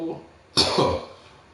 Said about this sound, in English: You can probably just heard me coughing there.